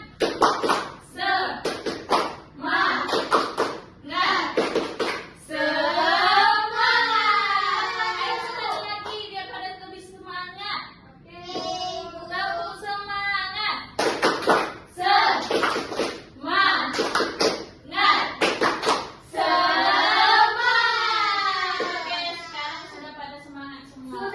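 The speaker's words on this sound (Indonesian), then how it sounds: "Tepuk semangat." Classroom of students doing a rhythmic spirit-clap routine, sharp bursts of clapping in set patterns alternating with chanted group voices, loud and close.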